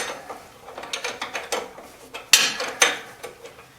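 A wrench ratcheting nuts loose during a belt change on a DC 1260 machine, a close run of rapid metallic clicking bursts with a couple of louder clacks partway through.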